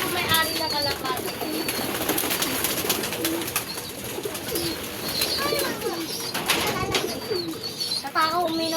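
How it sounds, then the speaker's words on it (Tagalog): Pigeons coo steadily nearby, overlapping soft repeated calls with occasional wing flutters and chirps, set against a busy, noisy background. "Uy! mga kalapati niya."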